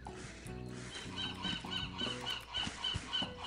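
Hungry seagulls in Escape from Monkey Island squawk in a harsh cartoon honking chorus, repeated calls over a steady bed of game music, loud and continuous with no speech.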